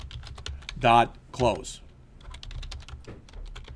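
Rapid keyboard typing clatters steadily throughout, close up, with a couple of short spoken sounds breaking in near the start.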